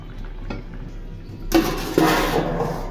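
Fried hilsa fish pieces drop into a boiling curry: quiet pot noise, then a sudden loud splashing sizzle and a second clink-and-splash, close and alone.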